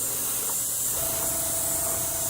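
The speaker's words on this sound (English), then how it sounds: "I'm going to start spraying." An airbrush sprays thinned Tamiya Color paint with a steady, close, loud hiss of air that runs unbroken throughout, and a faint whine joins partway through.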